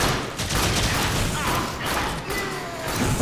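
Dense, continuous gunfire from the video game Warframe, a steady volley of shots layered with mechanical clatter and game effects, loud and close throughout with no pause.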